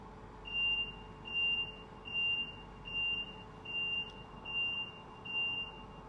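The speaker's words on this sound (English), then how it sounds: "Should an incident be detected in your carriage, the following alarm will sound." A steady series of seven electronic beeps from an onboard carriage incident alarm in an even rhythm, each lasting about half a second, sounding clearly over a low background hum.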